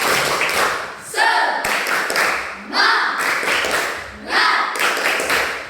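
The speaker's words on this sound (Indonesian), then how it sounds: "kita tetap tepuk semangat untuk kelompok 4" A class of students performs a rhythmic spirit clap for a group that has just presented, with bursts of patterned clapping and chanting voices repeating in cycles, loud and close.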